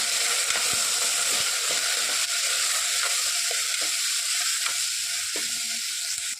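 Khichdi being stirred in a pan as spices, including Everest masala, fry with a steady continuous sizzle, and a few soft scraping strokes come through close up, with no voices.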